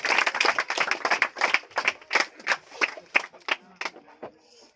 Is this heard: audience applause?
yes